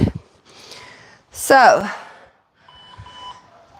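Workout timer buzzer sounding during a full-body chair exercise session, a brief harsh burst near the middle followed by a softer steady electronic tone, with a voice speaking briefly at the start.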